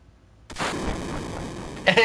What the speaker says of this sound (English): And another explosion.